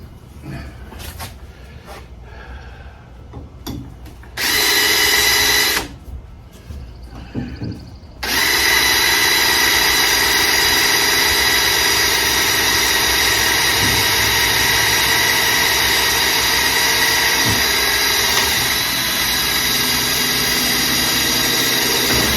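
A power drill bores a pilot hole into hard material while building an Albany Cutter sleigh, starting with short bursts and then running loud and steady for a long stretch at close range.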